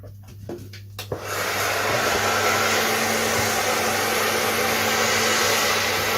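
A heat gun shrinks covering film on a vintage Mercury IV RC model aircraft, kicking in after a second of quiet and then roaring as a loud, steady, close-up blowing hiss with a faint low hum underneath.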